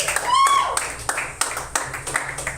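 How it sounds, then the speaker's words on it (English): Audience applause at a comedy show, a scattering of hand claps under an announcer's voice, fairly close and steady rather than a big roar. "Please put your hands together."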